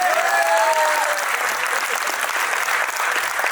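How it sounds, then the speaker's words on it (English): A crowd at a personality contest event breaks into loud, continuous applause, with a brief high whistle-like tone near the start, and the clapping stays steady throughout. "Big round of applause for those two."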